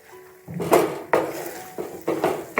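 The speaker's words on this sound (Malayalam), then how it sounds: "നെയ്യിലേക്ക് ചേർത്തിട്ട് നന്നായി ഒന്ന് ഇളക്കിയെടുക്കാം" Ground dates are stirred in ghee in a pan with a spoon, producing several distinct scraping knocks and clatters against the metal, coming in uneven bursts close by without speech.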